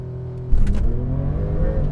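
A 2021 Porsche 911 Turbo S launches hard from a standstill on cold tyres that scrabble for grip, its engine note swelling into a loud, steady rumble that holds for about a second and a half after the start.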